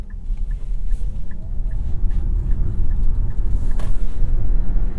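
2023 Nissan Ariya electric car accelerating, a steady low road rumble and tire noise with a faint rising whine, no talk.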